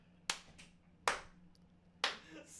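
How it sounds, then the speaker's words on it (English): Three slow, widely spaced hand claps ring out sharply and alone, each about a second apart, in a quiet room. "Slow clap like, for really?"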